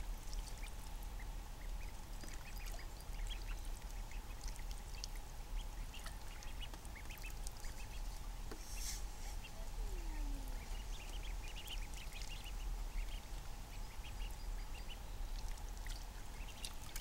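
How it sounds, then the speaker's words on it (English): Ducks in a backyard swimming pool quack softly now and then over steady trickling, pouring water, with a faint distant tone in the background. "Those are happy ducks."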